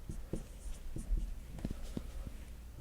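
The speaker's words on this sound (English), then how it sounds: "let me just write down my original again" A quadratic equation being handwritten: a close series of short scratchy pen or pencil strokes with small taps and pauses between them, moderately quiet, with no speech.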